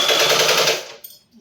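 An old sewing machine runs briefly with a rapid rattling clatter, loud and close, then stops and fades to near silence.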